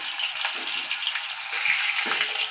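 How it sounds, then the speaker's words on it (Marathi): Soya chunks fry in a pan with turmeric and salt, a continuous bright sizzle with a steady hiss and small crackles, close and even throughout, with no talking. "चला तर मी याला फ्राय करून घेते"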